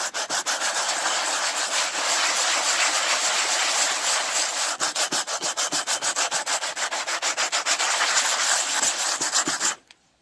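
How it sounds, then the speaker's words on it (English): Sandpaper scrubbing rust off a steel axe head in steady, continuous rasping strokes for about ten seconds, close and fairly loud, ending abruptly. "I'm gonna scrub it off with this piece of sandpaper real quick"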